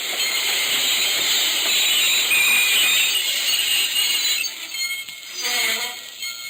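A train rumbles with a steady hiss and high metallic squeal, easing off toward the end as faint clinks emerge.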